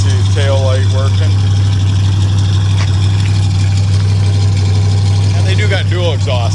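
A 1967 Oldsmobile Cutlass Supreme convertible with a 330 Jetfire V8 idles through its standard dual exhaust, a steady low rumble, close and loud, while someone talks over it.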